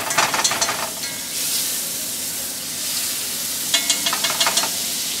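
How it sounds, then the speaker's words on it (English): Butter sizzling in a pan with squash being sautéed, a steady hiss of frying with bursts of crackling and scraping near the start and again toward the end, close and fairly loud with no voices. "I'm gonna add a little bit of butter in."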